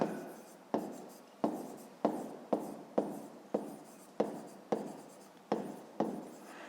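A pen writes a math exercise in a school notebook, giving a steady series of about a dozen short scratchy strokes, each starting sharply and trailing off, quiet and close.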